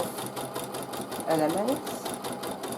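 A sewing machine quilting patchwork elements runs in a steady, rapid stitching rhythm throughout, close and fairly loud, with someone speaking briefly over it.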